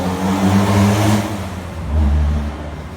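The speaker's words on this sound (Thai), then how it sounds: "ขออภัยในเสียงรถด้วยนะคะ" Car engines rumble and rev nearby as vehicles pass on a busy road in Min Buri, Nong Chok, Bangkok, the drone rising and fading twice, loud and close, with no voices.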